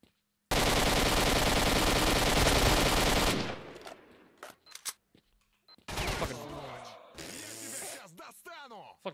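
Close automatic gunfire in S.T.A.L.K.E.R. Shadow of Chernobyl, with a loud continuous burst lasting about three seconds, then sparse shots and clatter, and another sustained burst toward the end.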